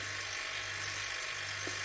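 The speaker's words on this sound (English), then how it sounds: "we've connected the vacuum gauge straight onto the vacuum pump running through the manifold set" A vacuum pump drawing down through a manifold gauge set on a refrigeration system gives a steady, unbroken motor drone with a buzzy electric edge, constant in level throughout, with no talking.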